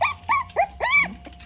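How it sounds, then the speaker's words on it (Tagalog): A small puppy gives four short, high-pitched barks and yelps in quick succession, close and fairly loud, the last sliding into a whine, with a faint low hum underneath. "Yung aso, tingnan mo, oh."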